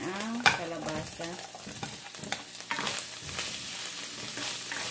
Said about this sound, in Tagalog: Gisahin natin ng mga 1 minute.